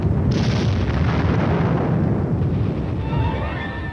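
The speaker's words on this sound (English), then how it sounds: "Under the cover of continued artillery air bursts, the team advances." Artillery air bursts in a barrage supporting an advancing armored team, heard as a loud, sustained rumbling blast that slowly fades, with no voices.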